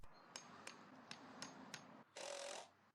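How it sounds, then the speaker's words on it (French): Five evenly spaced hammer blows drive offcut wooden stakes into the ground, crisp and close, followed by a brief scraping rub at the end. "puis les enfoncer au marteau."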